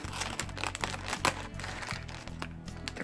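A large plastic bag of nail supplies being carefully opened and unpacked, with close crinkling and rustling of plastic in irregular bursts and a sharper crunch partway through.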